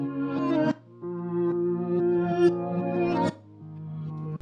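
Guitar processed through the Cymatics Pluto multi-effects plugin in FL Studio, playing sustained plucked chords with a rich harmonic tone and a brief gap mid-phrase, loud and close with no voices.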